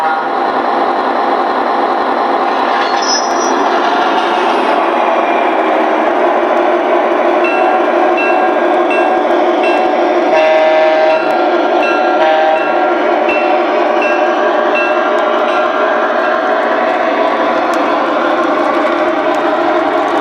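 An MTH Premier LIRR C Liner model train runs along its track, a steady close mechanical hum and rolling rattle with faint bell-like pings, continuous for the whole stretch.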